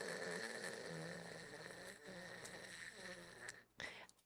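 A person imitates a dog snoring with their voice, a steady raspy buzzing drone that runs nearly continuously, close and moderately loud, briefly breaking near the end.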